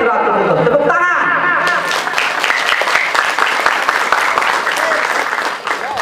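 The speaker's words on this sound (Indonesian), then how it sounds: "Tepuk tangan." An audience at an Islamic boarding school (pondok pesantren) gathering breaks into loud, sustained applause. Dense clapping builds after a moment of amplified speech and continues steadily with crowd murmur.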